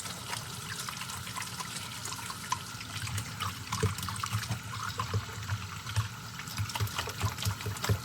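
Water from a kitchen tap runs steadily while an aloe vera leaf is rinsed by hand, a continuous splashing trickle with soft handling knocks, close and fairly quiet, no voices.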